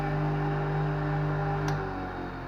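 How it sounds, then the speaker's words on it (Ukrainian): A steady electric motor on a DTZ KR-02T feed grinder runs smoothly on a table, giving a constant close hum with a stable tone and a brief click partway through, no voices. "Бачимо, двигун працює плавно,"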